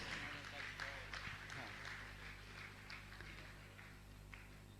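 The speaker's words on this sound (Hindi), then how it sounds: "जोरदार करतल ध्वनि से सम्मान कीजिएगा" Applause from a large audience at a Jain religious gathering with a monk: a dense, steady wash of clapping that fills the whole stretch, with faint voices mixed underneath.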